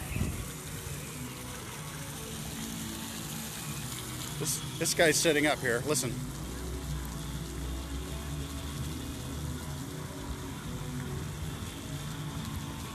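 The Dupont Circle fountain in Washington, DC sends out a steady wash of splashing water, moderately distant, beneath someone talking and a brief burst of chirpy sounds midway.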